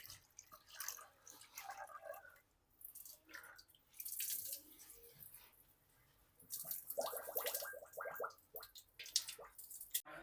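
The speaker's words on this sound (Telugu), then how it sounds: "మటన్, దీన్ని మంచిగా ఫ్రెష్గా వాష్ చేసుకుందాం" Raw mutton pieces are washed by hand in a bowl of water, producing intermittent sloshes, splashes and wet squelches in bursts, close and fairly quiet with pauses between.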